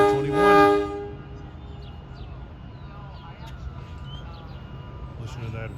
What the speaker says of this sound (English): Listen to that Westinghouse AA2 horn. He's blowing it pretty good.